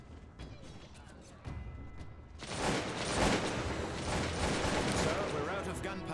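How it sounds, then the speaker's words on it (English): Rapid bursts of musket gunfire crackle in a busy battle in the video game Cossacks II: Battle for Europe, quieter at first and then swelling into a dense, continuous barrage with mechanical clatter. "We are under gunfire."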